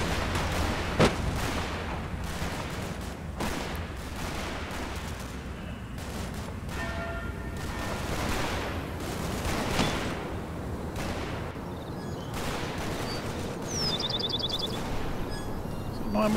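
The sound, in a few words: mortar fire in video game Combat Mission Fortress Italy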